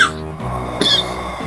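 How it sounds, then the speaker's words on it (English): A person coughs and clears their throat while playing Donkey Kong 64, a short close rough burst with raspy breathing around it. "I am still coughing."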